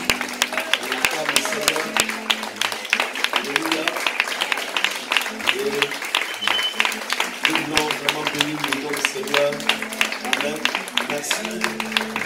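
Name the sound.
church congregation applauding, standing ovation for pastor and wife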